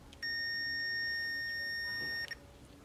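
One steady, high electronic beep from a Capacitor Wizard tester checking filter capacitors in a Sony Trinitron TV lasts about two seconds, then cuts off with a brief stutter. The room is otherwise quiet.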